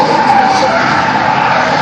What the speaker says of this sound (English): applying plenty of handbrake there